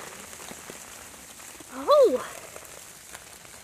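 Light rain patters steadily outdoors near a pond, a soft continuous hiss, briefly interrupted by a short spoken exclamation from a nearby voice.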